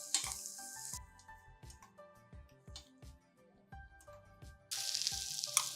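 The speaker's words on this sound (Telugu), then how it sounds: "గుమ్మడి ముక్కలు కొంచెం వేగితే చాలండి" Pumpkin pieces fry in ghee in a pan for a lentil and pumpkin payasam, a soft sizzle with bursts of louder hissing and a utensil knocking and scraping against the pan. Faint and close, with no talking.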